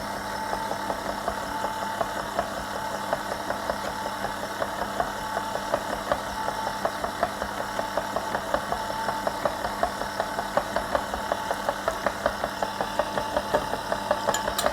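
An electric mixer beats chocolate cake batter with a continuous whirring drone and faint regular ticking, steady and close for the whole stretch.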